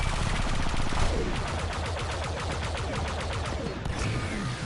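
Rapid, dense volleys of launches and blasts from Star Wars: Battlefront II's space combat roar steadily and loudly throughout, a continuous barrage with no pauses.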